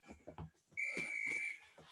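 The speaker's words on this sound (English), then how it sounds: "All the way to the whistle." A sharp, sustained workout whistle blows for about a second to end an exercise in a HIIT session, loud and steady, preceded by brief spoken instructions from a coach.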